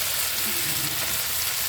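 Fresh spinach hits a hot pan of fried spice paste and sizzles loudly and steadily throughout, a dense, even frying hiss with no talking.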